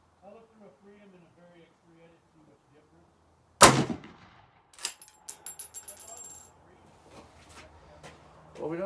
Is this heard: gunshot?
yes